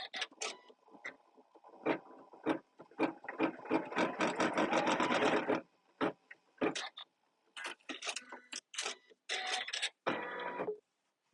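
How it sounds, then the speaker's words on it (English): A sewing machine stitching down a zipper pouch, with rapid mechanical whirring runs that stop and restart between pauses, close and loud, with some faint talk in the gaps. "I'm just going to put tape right here and let it stitch that down."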